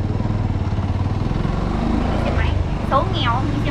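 A motorbike engine runs steadily, loud and close, with a continuous low rumble throughout while voices talk in the background.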